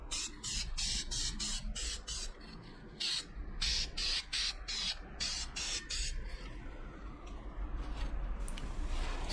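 Bursts of aerosol spray paint hiss onto Yamaha XT250 motorbike engine parts set on cardboard, a string of short close sprays in quick succession with brief gaps, then a longer spray near the end.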